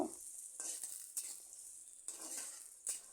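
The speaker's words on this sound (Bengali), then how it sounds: "এ পেঁয়াজ কুচি কিছুক্ষণ বেজে নেব" Chopped onions sizzle and crackle in hot oil tempered with panch phoron, a steady close frying hiss broken by a few sharper stirring scrapes.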